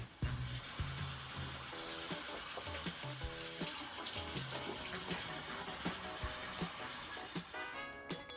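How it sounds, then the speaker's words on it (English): Tap water runs and splashes steadily into a sink while a Thanksgiving turkey is rinsed, a continuous loud hiss with small clunks and knocks throughout before the flow stops at the end. "once you get the turkey out, you're going to rinse it in water."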